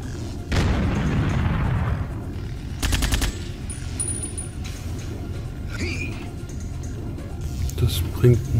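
An explosive barrel blows up in the video game Duke Nukem: Manhattan Project: a sudden broad boom with a decaying rumble, then a short run of rapid crackling blasts over steady game background noise.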